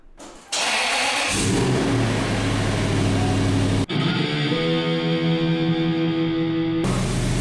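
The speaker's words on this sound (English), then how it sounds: "Now it's time for a little test drive." A Toyota 4th Gen 4Runner on fresh Bilstein 5100 shocks starts up and drives off, its engine droning steadily and loudly with a brief break before the hum resumes.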